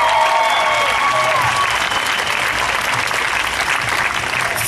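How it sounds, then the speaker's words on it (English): Sustained audience applause at a Tropfest New York 2012 short film festival event, loud and steady throughout, with faint crowd murmur beneath. "So give him a huge round of applause."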